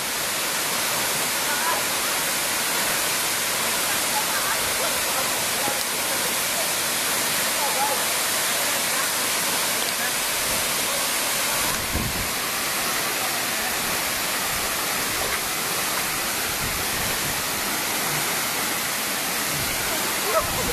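The Dampalit Falls waterfall roars as a constant, dense rush of water, loud and close, with no pauses.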